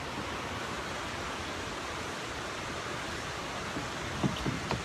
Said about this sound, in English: Just listen to that wonderful water.